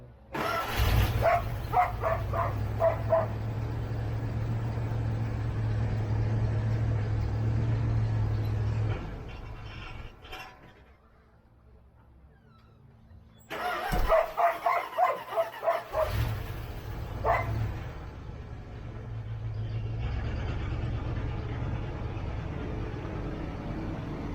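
A Dodge Ramcharger engine cranks and catches, then settles into a low, steady idle. A dog barks repeatedly nearby, and there is a quiet pause between the running stretches.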